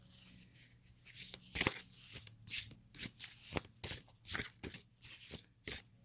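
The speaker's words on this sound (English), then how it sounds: "we're going to draw an overall card" Tarot cards shuffled by hand in a run of crisp riffling bursts, each a sharp papery flutter separated by short pauses, close and fairly loud with no talk.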